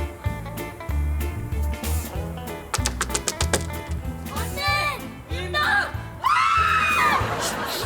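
Several people shout and yell in a classroom scene, with loud overlapping voices and rising cries layered over background music and clattering.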